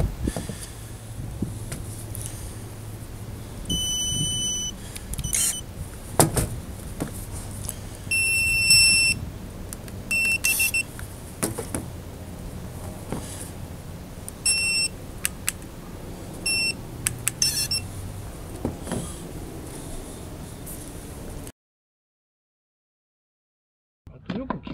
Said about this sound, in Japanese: この音っていうんですかね、モーター音がちょっと大きい